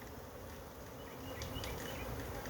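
A swarm of Africanized honey bees buzzes steadily and densely during a wild colony capture in Guyana, the hum swelling slightly louder partway through, with no voices.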